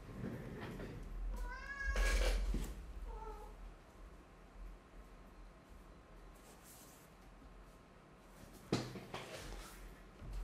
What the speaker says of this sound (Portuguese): Eu vou ter que abrir a porta pro gato.